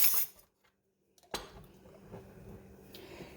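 A spoon clinks against a bowl while stirring sugar, cinnamon and nutmeg together, a faint scrape and light tapping after a short pause, close and quiet.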